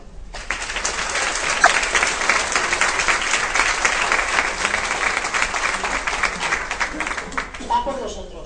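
A conference audience at a joint INSS-Ceadac session applauds both teams: dense, steady clapping from many hands that starts abruptly and continues for about eight seconds.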